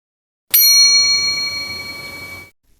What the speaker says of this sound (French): activer la cloche des notifications pour recevoir une petite notification